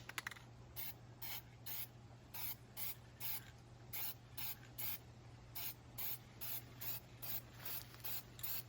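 Spray paint hisses in a steady series of short, evenly spaced bursts, roughly a dozen in all, as a final layer is applied to an engraved boulder, with a low constant hum underneath.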